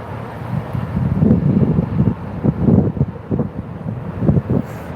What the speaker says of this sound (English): But the wind is just kicking my ass.